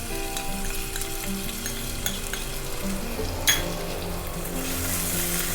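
A ginger, garlic and green chilli paste fries in a pan, giving a loud, close, bubbling sizzle with a steady stir and a single knock of a spoon midway.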